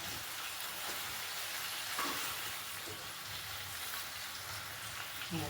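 Quail tandoori pieces fry in a hot pan and are turned over, giving a steady, close crackling sizzle with small bursts of spatter and no voices.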